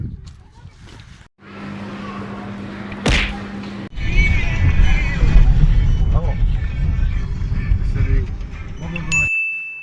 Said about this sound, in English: that pinging sound you can hear, that is the car's own alarm warning system letting him know that he hasn't got his seatbelt on